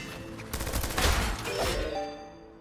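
Shotgun fire in the video game Strider, heard as a few loud, close blasts crowding together within about two seconds, with ringing electronic tones sounding behind them.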